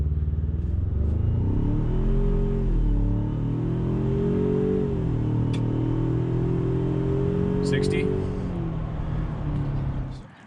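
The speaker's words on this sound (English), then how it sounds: "do 0 to 60 real quick. We're not building boost, just flat foot on the gas." A 2020 Ford Ranger Lariat FX4 pickup with a 10-speed automatic at full throttle from a standstill, the engine droning close from inside the cab, its pitch climbing and dropping through several upshifts before easing off at the end.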